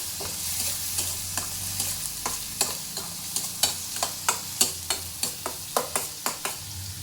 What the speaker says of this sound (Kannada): ಗ್ರೀನ್ ಚಿಲ್ಲಿ ಪೇಸ್ಟ್ನ ಹಾಕ್ಕೊಳ್ಳಿ. ಸ್ವಲ್ಪ ಹಸಿ ವಾಸನೆ ಹೋಗೋ ಥರ ಫ್ರೈ ಮಾಡ್ಕೊಳ್ಳಿ.